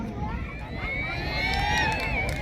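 Spectators at a Thai men's village football match for third place shriek and cheer after a player is fouled, a sustained crowd roar with high shrill screams rising over the babble, with a commentator talking throughout.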